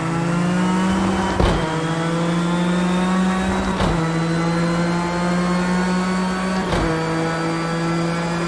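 A race car engine in Project Cars 2 holds a loud, steady high drone, and three quick gear-shift dips break it at a regular interval as the car keeps pulling hard.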